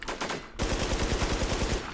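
Mossberg shotgun fired in a PvP shooter video game, one sharp blast, then a rapid rattling burst of about a dozen close, loud, evenly spaced shots.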